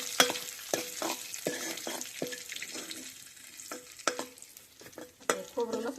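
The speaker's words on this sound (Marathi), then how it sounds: "आता खोबरं लसूण भाजायचं. चांगलं हलवायचं." Grated coconut and garlic roasting in hot oil in a pan, stirred with repeated sharp spatula scrapes and clinks over a light steady sizzle, close and fairly quiet.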